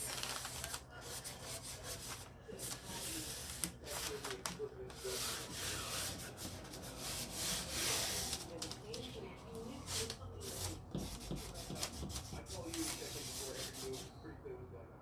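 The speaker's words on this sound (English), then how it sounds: "I'm going to rub across like this. All the way down until it's fully adhered to my piece." Steady, soft scraping and rubbing of decoupage paper against a wooden surface in repeated strokes, faint and continuous for several seconds.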